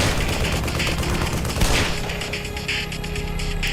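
A weapon fires in Black Mesa: Definitive Edition, a dense, continuous burst of rapid automatic shots that runs loud through the whole stretch without pause, with no talking.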